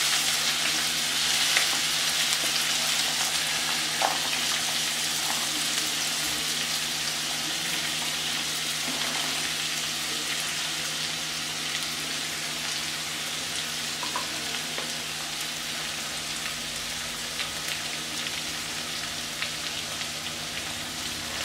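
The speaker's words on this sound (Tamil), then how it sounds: "வெங்காயம் இதெல்லாம் ஃப்ரை பண்ண போகிறேன்" Onion, green chilli, ginger and garlic fry in a pan over medium heat, giving a continuous even sizzle like light rain, close and moderately loud, with no talking.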